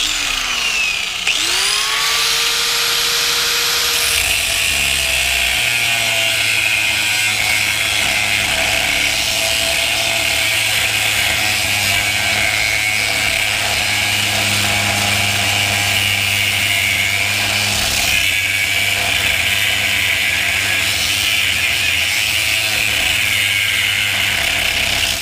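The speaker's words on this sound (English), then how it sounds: "sparks and the dirt and all that kind of stuff from this grinder doesn't affect it" An angle grinder cuts through metal during a basic fabrication job, a loud continuous whine that runs nearly unbroken from start to finish, close to the listener and without talk.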